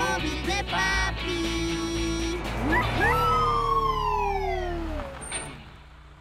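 Cartoon police patrol car siren wails loudly in rising and falling sweeps over a bright animated-show music bed, with a short high chime near the end.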